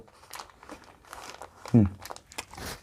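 Tissue paper is handled close by, giving soft crinkling and rustling with one sharper crumple, while someone talks over it.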